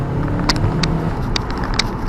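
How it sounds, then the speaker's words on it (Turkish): A 2011 VW Jetta 1.6 TDI diesel with an automatic gearbox pulls hard under acceleration, its engine droning loud and steady from inside the cabin with brief clicks on top. "Araç tam 4700 devirde vites atıyor."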